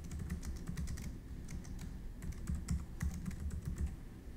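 Steady typing on a computer keyboard, a dense run of close, crisp key clicks with irregular rhythm and a few slightly louder strokes, with no talking.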